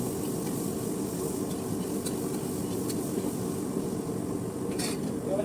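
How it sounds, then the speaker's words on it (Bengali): Vegetables with cardamom pods frying in a pan for a chicken dish, giving a dense, even sizzle with faint scraping from stirring that runs throughout. "তারপর আর নাড়তে হবে এভাবে।"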